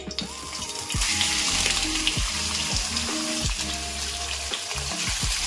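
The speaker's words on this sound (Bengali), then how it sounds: "কড়াইয়ে অয়েল দিয়ে দিচ্ছি অয়েল গরম হচ্ছে আমি অ্যাড করে দিচ্ছি" Capsicum, chili and ginger fry in hot oil in a wok with a loud, steady sizzle, accompanied by intermittent stirring and scraping sounds and faint background tones.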